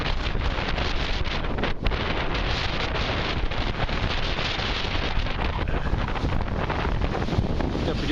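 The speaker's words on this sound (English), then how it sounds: "the wind is pushing the water around" Strong hurricane wind roars over a waterway, buffeting the microphone with constant loud, broadband rushing noise for the whole stretch, broken only by brief gust dips; no voices.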